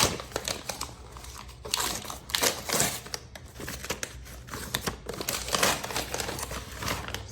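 Wrapping paper crinkles and tears during the unboxing of a Cartier purchase, in irregular bursts of crumpling and ripping, close and fairly loud, with no talk.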